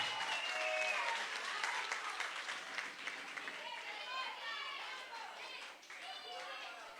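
Applause from an audience at a school awards event, fairly faint and distant clapping that continues for several seconds with cheers and chatter mixed in.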